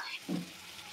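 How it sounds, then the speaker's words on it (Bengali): A faint, brief sizzle of tomato frying with a little salt in a pan, soft and steady. "এবারে সামান্য একটু নুন দিয়ে টমেটোটাকে একটু ভাজা ভাজা করে নেব।"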